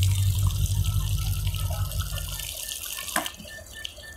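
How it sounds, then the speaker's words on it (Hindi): A running water tap on railway platform 1 at Jaunpur Junction pours steadily and fairly close for the first few seconds, then stops, with a brief splash and faint station background noise continuing afterward. "यहाँ पे एक नल चालू है"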